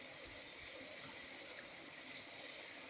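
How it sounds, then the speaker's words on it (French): A river flows through a dense forest in the Manding region, producing a steady, even rushing hiss with faint low gurgles and no voices. "Ici, je suis à côté d'une rivière qui coule."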